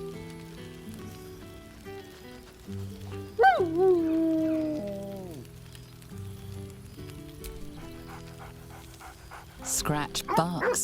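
Scratch, the dog companion in Baldur's Gate 3, gives a short burst of bright, merry yelps and barks, then quieter panting, with a second flurry of barks near the end over soft game ambience.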